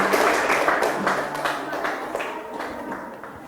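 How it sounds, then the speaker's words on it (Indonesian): Applause for a student group during a junior high school class session, a short burst of many hands clapping in a room that starts fairly loud and slowly fades. "tepuk tangan untuk kelompok 4"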